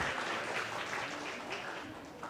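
Brief burst of audience applause for two speakers at a conference session, a crowd clapping steadily at moderate volume for a couple of seconds.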